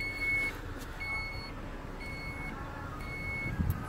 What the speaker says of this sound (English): all you gotta do whenever you want your lift gate to close is hit this button right here.